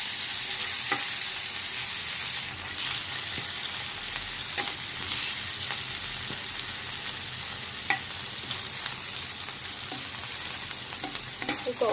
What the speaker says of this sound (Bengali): এখন তেলে নেব শুটকি তার জন্য দিয়ে দিলাম একটু সয়াবিন তেল